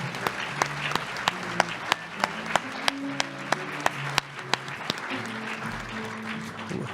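An audience applauds the MCs at a business hall of fame banquet, a steady wash of many hands clapping at moderate distance with a few sharper individual claps standing out.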